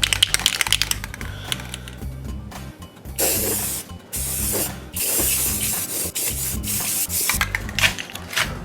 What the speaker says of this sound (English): Don't want to spray it too much because it's already started soaking in a bit.